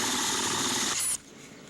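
A power tool whines loudly at close range, then cuts off abruptly, leaving a quieter low hum.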